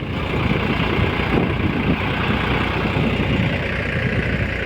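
A New Holland tractor engine runs near the village of Avaniya in Junagadh district, giving a loud, steady low rumble with a rough, chugging texture that holds constant throughout, with no voices.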